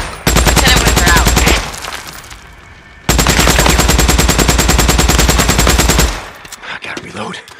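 Loud automatic gunfire in the zombie video game Days Gone, two long sustained bursts of rapid shots separated by a brief pause, followed by fainter game sounds as the firing stops.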